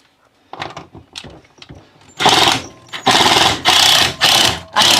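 A Ryobi power tool runs in loud sustained bursts with brief pauses between, preceded by some softer handling clatter and knocks.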